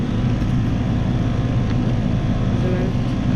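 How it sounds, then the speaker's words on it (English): A 2018 Trane XR14 4-ton air conditioner with a scroll compressor running outdoors, a loud, constant broadband roar of fan and compressor with low rumble, steady throughout. "I just got this 2018 4-ton Trane XR14 starting up"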